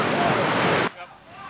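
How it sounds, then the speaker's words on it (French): Tsunami waves crash loudly onto a tourist beach, a dense roar of surf for almost a second before dropping abruptly to quieter rumbling. "Les vagues se brisent sur le rivage, déchaînées, de plus en plus grosses."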